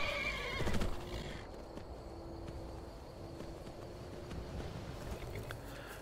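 Horses in the video game Skyrim whinny and neigh up close, with a few hoof clip-clops and soft ambient wind, fairly quiet overall.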